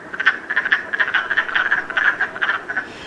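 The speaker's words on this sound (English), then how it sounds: "Our very first frog in the spring is typically something called the wood frog, and he has an interesting call." Springtime wood frogs give a rapid, continuous chorus of short clucking croaks, pulsing steadily and fairly loud, with no voices over them.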